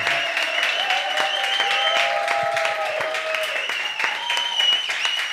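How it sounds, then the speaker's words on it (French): A studio audience at a French comedy TV show applauds steadily for the whole stretch, dense and close, with sustained tonal music-like lines running over the clapping. "Vous avez raison de m'applaudir ainsi"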